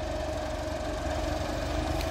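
A tractor engine, model 5705 fitted with a simple company turbo, idles with a steady, even mid-range drone and slight vibration, close by and without any talk.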